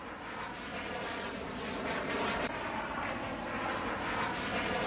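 A Rafale fighter jet landing at Ambala air base produces a steady, broad jet roar. It holds at a fairly even loudness for several seconds, with no voices.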